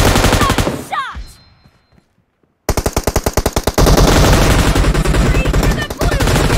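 A golden machine gun in PUBG Mobile fires loud rapid bursts, breaks off into near silence, then resumes in long dense automatic strings, with game voices faintly mixed in.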